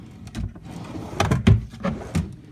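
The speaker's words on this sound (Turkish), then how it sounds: "Şuradaki tekerlekli çekmece şöyle açayım" A wheeled drawer under a baby crib in a nursery is pulled open, giving a few soft sliding rumbles and light knocks close by, with no talk.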